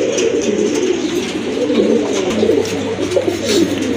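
Bombay pigeons, a female among them, coo in low, rolling, repeated calls that sound close and fairly loud, with no talking.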